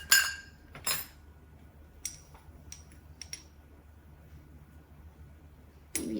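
A metal teaspoon scooping Italian seasoning in a kitchen, with a few sharp clinks and taps of metal against a jar or dish spaced across a quiet background and one louder clatter at the end.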